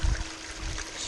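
Water pours into a cleanup sluice in a short, close splash that tapers into a steady trickling wash.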